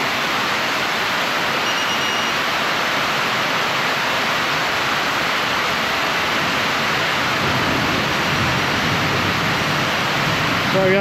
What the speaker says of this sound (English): when it pours down, it's loud as heck in here